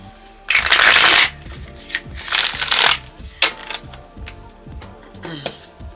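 Two loud riffling card shuffles in a row, each a dense rush lasting under a second, followed by softer bridging taps and shuffling noises.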